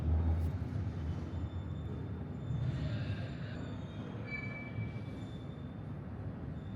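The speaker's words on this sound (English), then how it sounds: "the train will be cut into pieces and shunted one by one onto a" Railway cars being shunted onto a train ferry in Italy rumble and creak at low speed, with a metallic wheel squeal and clanks over a steady heavy drone.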